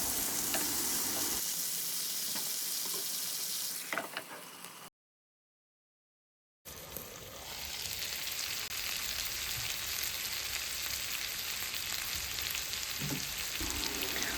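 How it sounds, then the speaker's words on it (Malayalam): Chicken pieces fry in a covered pan for a chicken fry, with a steady, loud broadband sizzle that breaks off for a moment of silence partway through and then carries on alone, no voices. "അപ്പം നമുക്ക് മറുവശമെല്ലാം തിരിച്ചിട്ട് കൊടുത്തിട്ട് വീണ്ടും ഇതൊന്ന് മൂടി വെച്ച് വേവിക്കാം"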